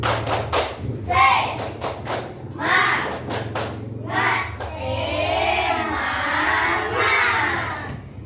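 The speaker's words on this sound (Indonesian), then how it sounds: "Ayo, tepuk semangat." A class of children doing a rhythmic spirit clap in a classroom: a run of loud, patterned claps and thumps, then a sustained group shout or chant from many young voices.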